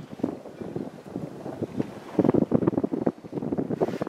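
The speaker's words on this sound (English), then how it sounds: "It's getting windy." Gusty winter wind on a mountaintop fire tower buffets the microphone in rough, uneven rumbles, with no voices.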